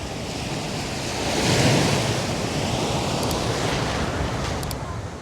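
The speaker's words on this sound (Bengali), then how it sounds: "সমুদ্রের গর্জন শুনতে পাচ্ছেন" Ocean surf roaring at Patong Beach in Phuket, Thailand, a steady, loud wash of breaking waves with wind buffeting the microphone, swelling midway and sustained throughout with no talk.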